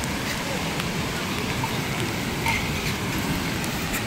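Rain falls outdoors at a dam in a steady, dense, close hiss of drops that stays even throughout, with a few faint brief sounds on top.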